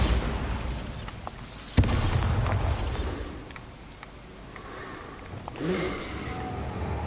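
Bombarda explosion spell cast in Hogwarts Legacy, a sharp blast followed by a rumbling decay, with voices and other game effects around it.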